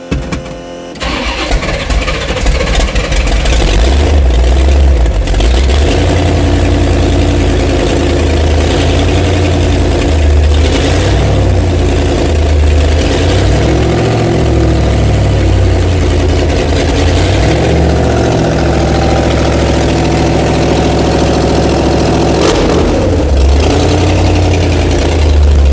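Engine of a hot rod Ford Model A starts and settles into a loud, steady idle, low rumble throbbing evenly throughout with a noisier pump whining alongside, no voices.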